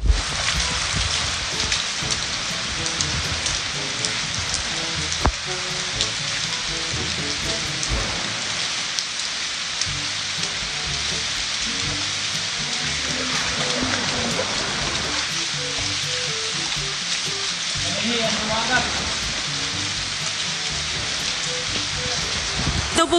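Heavy rain pours steadily beside a river, a dense, continuous hiss of drops on surfaces and water with faint voices now and then underneath.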